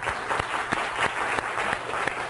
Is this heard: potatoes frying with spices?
no